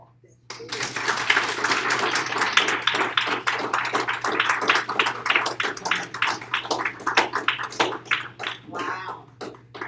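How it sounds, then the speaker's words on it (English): An audience at a school board meeting applauds district staff, steady clapping from a room full of people running for nearly ten seconds, loud and close, with a low constant hum beneath. "Please join me in a round of applause."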